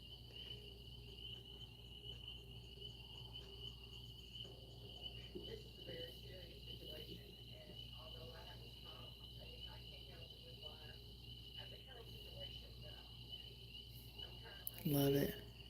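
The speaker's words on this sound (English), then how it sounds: "Can y'all hear the tree frogs now?" Tree frogs calling at night, a steady faint chorus of high, thin trilling that carries on in the background throughout, with soft room noise and a brief rustle near the end.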